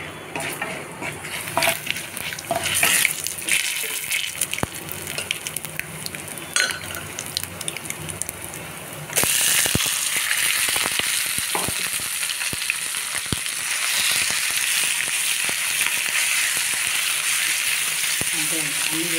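Popu tempering for gongura peanut chutney crackles and sizzles in hot oil in a pan, a continuous frying hiss with scattered clinks and scraping of a stirring utensil, jumping louder about halfway through, with brief talk over it.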